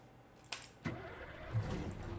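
A Scania four-axle truck in Euro Truck Simulator 2, a six-cylinder fitted with a V8 sound chip, starts up: two sharp clicks, then cranking that catches into a steady, close low rumble with no talking.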